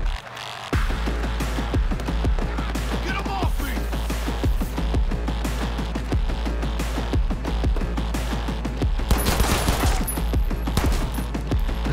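Sustained, loud automatic gunfire in the video game Cyberpunk 2077, a dense unbroken barrage of rapid shots over a low rumble that runs the whole time.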